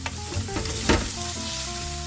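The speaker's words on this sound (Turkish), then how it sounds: "Ve pek tabii ki soğanımı. Duyacağız sesini duyacağız arkadaşlar." Onions sizzle and crackle as they fry in a pan, a dense close hiss with a brief louder stirring burst partway through, and no one speaking.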